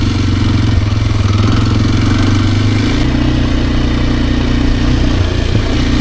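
A Kawasaki KLX230R dirt bike engine runs steadily while riding, a loud, close, throbbing drone with a slight change in pitch partway through.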